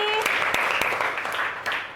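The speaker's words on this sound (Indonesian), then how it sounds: "tepuk tangan untuk kelompok Bali" Students applaud a group's class presentation in an Indonesian classroom, producing brief, moderately loud clapping with a few sharp claps standing out and a voice fading at the start.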